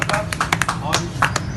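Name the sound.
clapping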